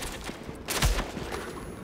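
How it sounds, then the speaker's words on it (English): Gunfire in Tom Clancy's The Division, a dense fusillade of shots with one heavier burst in the middle, steady and continuous throughout. "Who the hell's shooting at me?"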